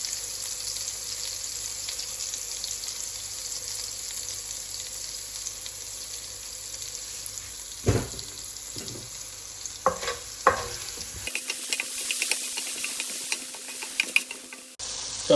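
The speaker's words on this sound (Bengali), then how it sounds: "এই সরিষার তেলের ভিতরে দিয়ে দিতে হবে টমেটো" Tomatoes frying in mustard oil with a little salt, a continuous close sizzle broken by sharp scraping and stirring clicks from a utensil, with no talking.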